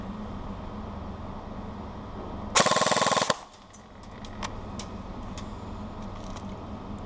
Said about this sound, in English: here's the KRISS Vector on full auto